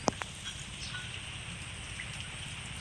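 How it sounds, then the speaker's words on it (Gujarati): Steady rain hisses evenly throughout, with a couple of sharp drip clicks right at the start. "વરસાદ"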